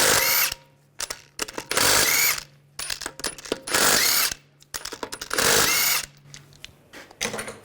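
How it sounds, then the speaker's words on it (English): A power tool drives a 17mm socket to remove lug bolts from the front wheel of a 2009-2017 Volkswagen Tiguan, with loud repeated bursts of impact whirring separated by short pauses, close up and with no talking. "Using a 17mm socket, we're going to take these lug bolts off."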